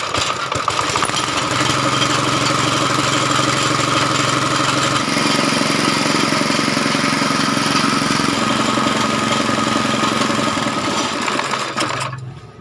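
Air compressor running after being switched on, a loud, steady motor drone with a pulsing low mechanical hum, continuous and close throughout before cutting off at the end.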